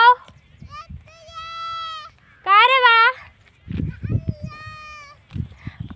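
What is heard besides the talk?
goats bleating while grazing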